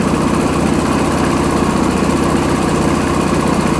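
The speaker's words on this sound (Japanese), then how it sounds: "エンジンスピードだいたい設定値前後で回っております。" Honda GP125 motorcycle engine idling steadily during a pre-delivery inspection, a close, continuous even putter with no change in speed throughout.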